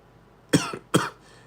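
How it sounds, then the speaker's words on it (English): Two sharp, close coughs about half a second apart, loud and alone against a quiet background. "You see, I still got a cough."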